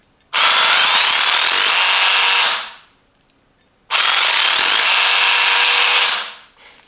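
A Parkside PABH 20-li C3 cordless hammer drill in hammer mode makes two loud, sustained gritty runs of a few seconds each, with a short silent pause between them. It is close, with no voices.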